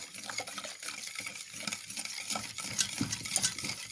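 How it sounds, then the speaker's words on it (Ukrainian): Homemade full-fat milk being whisked with sugar in a bowl, a quick, irregular clatter and swish of the whisk against the sides, close up and continuous without speech. "Вливаю стакан домашнього жирного молока і збиваю вічком."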